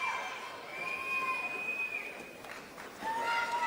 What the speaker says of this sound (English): huge support from the crowd, and we can hear them now